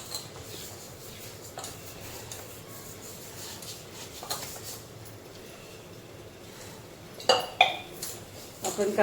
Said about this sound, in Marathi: व्यवस्थित ते परतून घेऊया आपण.